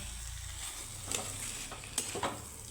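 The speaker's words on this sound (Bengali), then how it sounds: "এখন আমি কচু আলুর সাথে কিন্তু মশলাটাকে আর একটু কষিয়ে নেব সুন্দর করে" Taro and potato stir-fried with spices in hot oil, a steady sizzle under a few sharp scrapes and clinks of a spoon stirring the pan, close and alone with no voices.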